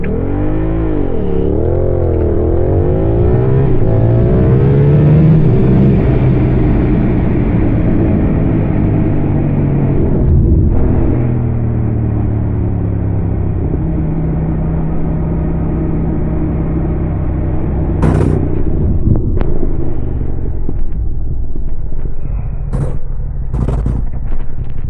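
A Yamaha R7 motorcycle engine revs and pulls away from a standstill, loud and close, its pitch climbing and dropping through repeated rises before a brief cut and steadier drone, with a few sharp clicks near the end.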